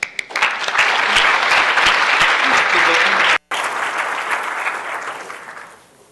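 Sustained loud audience applause at an EA conference closing keynote welcoming the speaker to the stage, a dense roar of clapping that briefly cuts out, then fades away at the end.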